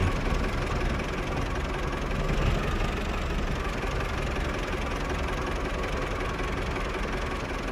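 A John Deere tractor's engine runs on a village farm with a steady, close, continuous diesel rumble at constant loudness and no talking over it.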